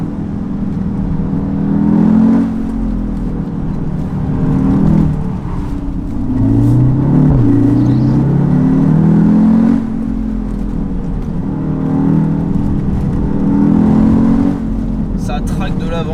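Audi TTS 310 Roadster pulling hard along a twisty road with ESP switched off, its engine note rising and falling in repeated revving surges through the bends while someone speaks over it.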